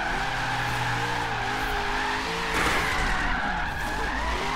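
A car slides sideways through a roundabout drift zone in the racing game Forza Horizon 3, its tires squealing in long wavering tones over a steady engine drone, loud and close.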